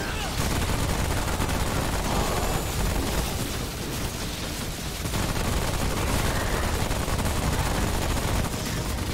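Dense, continuous automatic gunfire and explosions from a boss fight in the video game Remnant: From the Ashes, loud and relentless with barely a pause.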